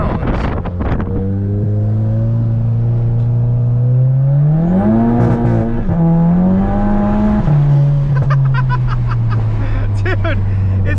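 A tuned Volkswagen car running on pump gas revs while driving, its engine droning loud and close as the pitch climbs, dips and climbs again, with wind noise and brief crackles.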